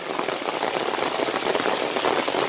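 Heavy rain pours steadily onto a chili garden, a dense continuous hiss of drops hitting leaves and ground, loud and unbroken.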